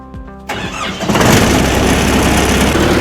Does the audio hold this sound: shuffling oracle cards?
no